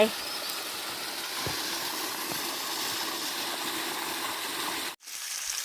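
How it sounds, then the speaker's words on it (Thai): Clear water flowing down from the mountains toward the sea, a steady close hiss of rushing stream that stops abruptly near the end. "อันนี้น้ำมาจากภูเขา ไหลลงทะเลพี่น้อง"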